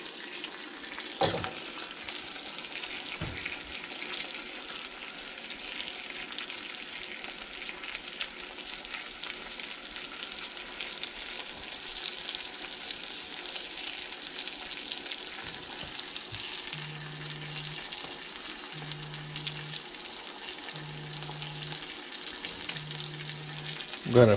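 A ribeye steak sizzles steadily in a pan on a gas stovetop, a continuous close hiss and crackle with a few clunks, and a faint rhythmic tone repeating near the end.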